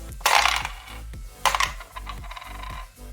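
Dice rattle and clatter across a table during a Kill Team tabletop wargame match, with two distinct throws about a second apart and some lighter tumbling afterward, close by over a low background hum.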